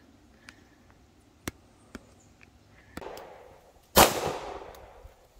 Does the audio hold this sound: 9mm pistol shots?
yes